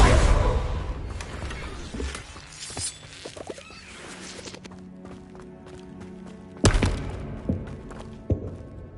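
Confringo spell cast in Hogwarts Legacy on PS5: a loud burst and rumble at the start, a quieter stretch, then another sharp blast and thuds near the end.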